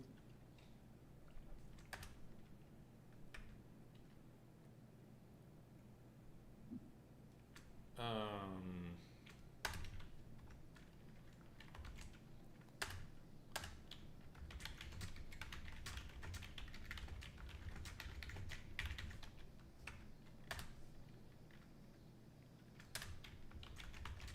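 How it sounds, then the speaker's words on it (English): Fingers type on a computer keyboard in a quiet writers' room, with faint, irregular clicks in bursts and pauses, a brief rattling sweep partway through, and low background murmur. "Keep typing."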